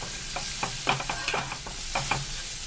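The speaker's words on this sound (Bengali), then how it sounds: "দেখুন ফুলকপি আলু ভাজা হয়ে গেছে" Cauliflower and potato pieces fry in a pan as a spatula scrapes and tosses them, giving a steady sizzle punctuated by a quick series of close stirring scrapes, with no talking.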